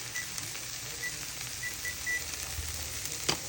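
Garlic and onions sizzle and crackle steadily in a hot pan, a close, continuous frying hiss with small pops and no talking.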